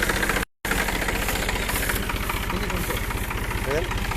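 A New Holland tractor engine idles close by with a steady, rapid knocking pulse, loud and continuous apart from a brief dropout near the start; voices talk over it.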